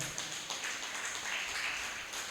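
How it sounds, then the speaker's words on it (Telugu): Church congregation at a Telugu resurrection worship service clapping hands together, a fairly quiet series of rhythmic claps forming a light, regular patter over a soft room background. "అందరం చప్పట్లు కొడదాం"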